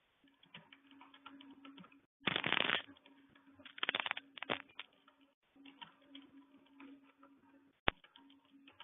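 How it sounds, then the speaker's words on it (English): Quiet clicking of typing on a computer keyboard during an online meeting, irregular keystroke bursts with a few louder clattering clusters, faint and close, with no talk. "Can you hear me typing?"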